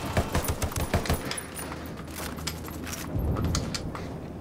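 Single gunshots in Ghost Recon Wildlands crack in quick succession, a steady run of sharp reports, then a lull and another cluster of shots near the end.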